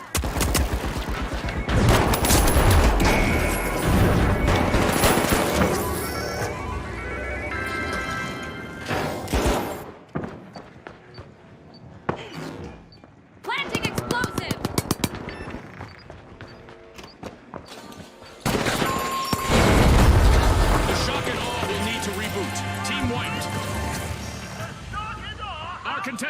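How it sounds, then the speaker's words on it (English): A frag grenade blast and heavy gunfire in the game The Finals roar in loud, continuous volleys with thuds. A short lull comes before the firing resumes, and speech runs throughout. "Frag grenade out!"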